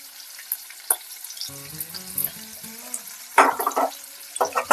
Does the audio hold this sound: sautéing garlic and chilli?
yes